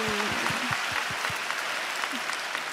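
A church congregation gives a contestant an encouraging round of applause during a Bible recitation contest. The steady crowd clapping fills the hall, with a few deeper thumps near the start.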